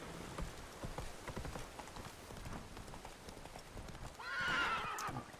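Horse Roach from The Witcher 3 trots with steady clip-clop hoofbeats over faint rain, ending in a loud, close whinny near the close.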